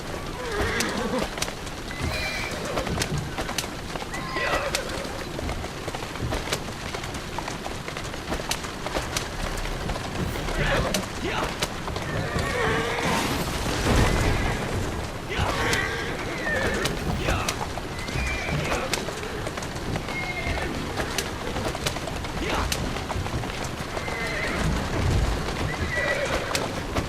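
Horse in the video game Assassin's Creed Syndicate neighs and whinnies with clip-clop hooves, set against busy game ambience and a spoken voice.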